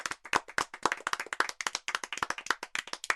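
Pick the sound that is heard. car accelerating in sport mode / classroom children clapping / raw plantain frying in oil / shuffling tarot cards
classroom children clapping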